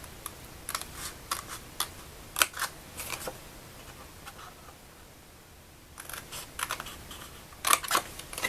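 Scissors snip scroll lines into Stampin' Up! paper for a stationery box, giving quick, light clicking cuts in two clusters separated by a quiet pause. The sound is close and soft, with no talking.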